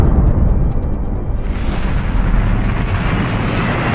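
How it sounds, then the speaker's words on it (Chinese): A roaring boom from a roughly four-ton meteorite tearing into the atmosphere as a sound effect, a loud broadband rumble that swells and rolls on continuously. "当时人们突然听到了巨大的轰鸣声"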